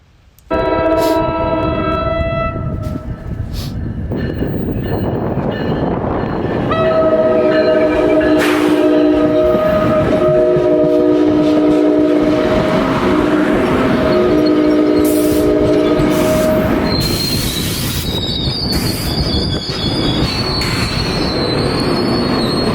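A train rumbles into a station at night, loudly and steadily, wheels squealing with sustained tonal screeches and a horn-like blast, growing louder as it pulls close to the platform on an eastbound line toward Penn Station, New York.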